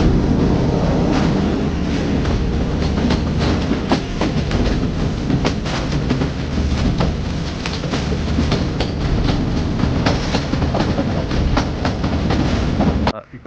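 A train runs along the railway from Colombo to Hatton in Sri Lanka, with a loud, continuous rumble and steady clickety-clack of wheels on the rails throughout.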